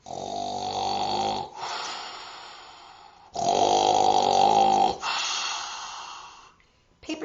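A person imitates snoring with two long, rasping inhaled snores and slower exhales, loud and close, in a steady sleepy rhythm.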